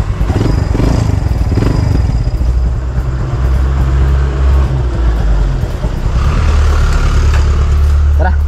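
A car engine runs with a loud, steady low rumble close by, its hum continuing throughout while people talk over it.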